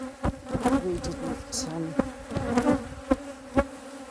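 A decent-sized honeybee swarm settled into an empty brood box hums with a steady, close buzzing, with sharper bursts now and then as individual bees pass near.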